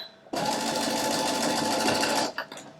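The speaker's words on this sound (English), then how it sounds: "we're going to sew at a 1/2 inch seam allowance. Okay, I'm going to make sure to backstitch" A sewing machine runs fast and steady for about two seconds, stitching plush minky fabric at a half-inch seam, then stops with a brief backstitch burst.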